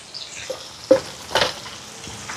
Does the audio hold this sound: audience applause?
no